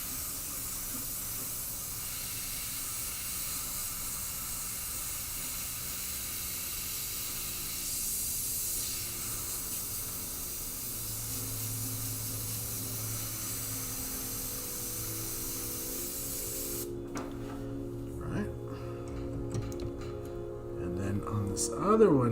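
Spray paint hisses in long steady bursts while a skull design is airbrushed in bright orange, green and yellow, with a voice talking over the spraying and a shift to quieter, more tonal sounds near the end.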